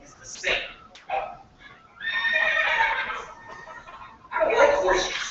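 A horse on a farm whinnies several times: short snorting calls first, then two long, loud, shrill neighs separated by a brief pause.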